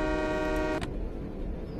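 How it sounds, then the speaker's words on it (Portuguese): A short, steady train horn blast in the video game Zompiercer sounds for under a second, then cuts off, leaving a low engine rumble. "Buzina."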